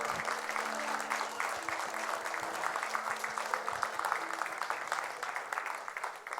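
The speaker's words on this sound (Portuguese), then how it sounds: "Pode aplaudir a Jesus." A church congregation applauds during a sermon, a steady wash of many hands clapping for about six seconds with a low sustained hum beneath it and no speech over it.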